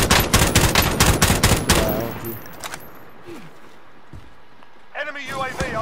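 Rapid automatic gunfire from an online shooter video game rattles in loud, dense bursts for about two seconds, then fades into quieter game sounds with a voice speaking near the end.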